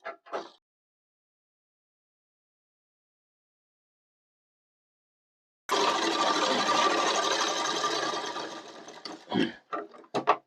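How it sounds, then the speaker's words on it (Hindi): Electric sewing machine stitching cloth, a steady continuous mechanical whirr lasting several seconds after a long quiet stretch, then stopping and giving way to a few short clicks and taps near the end. "हम इसमें सिलाई लगा लेते हैं।"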